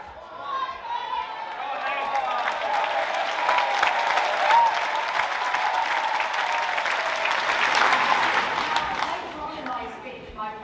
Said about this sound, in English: there was just rapturous applause for Liz Truss